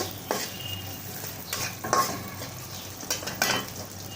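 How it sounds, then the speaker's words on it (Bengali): Chopped onion and green chillies fry in a pan, a constant close sizzle broken by a few sharp stirring scrapes and clinks of a spatula, with no talking. "এখানে আমি পেঁয়াজ কুচি আর মরিচ কাটা নিয়ে নিয়েছি কুচিটা একটু ভেজে নেব"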